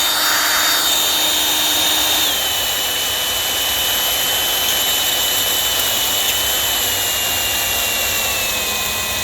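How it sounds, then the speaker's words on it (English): An electric drill runs continuously at a steady high whine for the whole stretch, close and loud with no talking, used for case prep. "You gotta get the drill started first."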